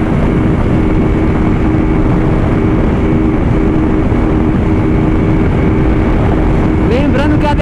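Honda Titan motorcycle with an aftermarket exhaust, a loud, continuous engine roar and wind rush from close by while riding, holding steady throughout with a brief rev near the end.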